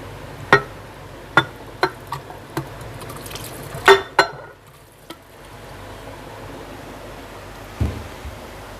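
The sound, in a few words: chopped watermelon being put into a jug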